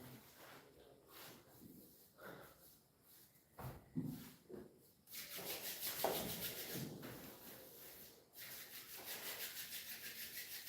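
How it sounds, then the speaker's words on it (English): Hands rubbed together briskly during a yoga class, producing soft, repeated dry swishing bursts that grow denser and louder in the second half, close to the microphone. "So you can rub your hands any number of times."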